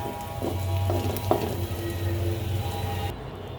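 Bitter gourd (karela) cooks in a pan with a steady, moderately loud sizzle and faint stirring scrapes, over a constant low hum, and no one speaks.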